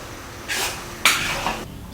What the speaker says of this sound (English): Keep stir frying until the egg is nearly fully cooked.